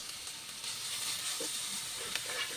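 Garlic paste sizzling in a hot pan while pilaf is being cooked, a steady bright hiss that runs throughout with a few soft pops and stirring sounds, close and fairly quiet.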